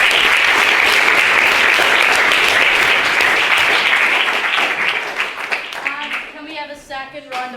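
An audience at a debate on whether religion is a force for good applauds a speaker, with loud, dense clapping that fades away near the end as a voice begins talking.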